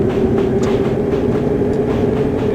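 Train from the Virtual District scenario in a video game, a double engine set at the end, rumbling steadily with a sustained mid-pitched drone and faint intermittent rattles, loud and continuous throughout.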